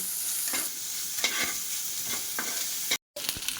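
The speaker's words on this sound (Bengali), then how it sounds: "এটা একটুখানি ভেজে নিয়ে আসছি" Vegetable chop mixture with ginger paste and salt fries in a pan, a continuous close sizzle broken by repeated spatula scrapes and stirring clatters, with a brief dropout near the end.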